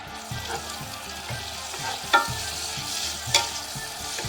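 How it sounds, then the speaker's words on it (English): Bacon sizzles steadily in a pan with a constant crackling hiss, broken by two brief sharper pops or scrapes, close and fairly loud. "our bacon I should say, is almost finished frying."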